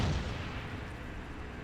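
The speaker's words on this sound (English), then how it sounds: "How big of an explosion do you think that's gonna be?" A large explosion detonated in the video game Metal Gear Solid 4 booms out as a loud low rumble that decays slowly across the short stretch, with no voices over it.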